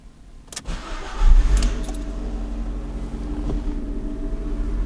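A Fiat/Abarth 500 engine cranks with the key, catches near and loud, then settles into a steady low idle, with no voices over it.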